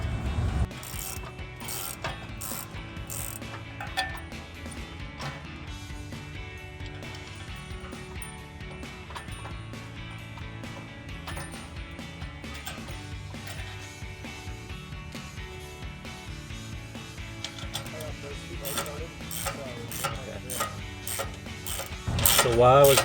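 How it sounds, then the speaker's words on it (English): Ratcheting and metal clicks as 18mm bolts with flat and lock washers are threaded onto a Jeep Wrangler JK tubular rear bumper, a steady run of small mechanical ticks up close. "the next thing we're doing here is we have the 18mm bolts threaded with a washer"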